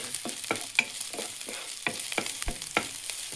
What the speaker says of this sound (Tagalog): Gigisa na natin ang ating gulay. Lulutuin na natin siya.